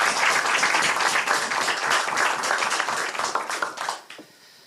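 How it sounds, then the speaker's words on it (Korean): Dense, loud applause from a crowd at a Democratic Party rally in Incheon, sustained and even before fading out near the end. "이 모든 분들을 위해서 뜨겁게 박수 한번 부탁드리겠습니다."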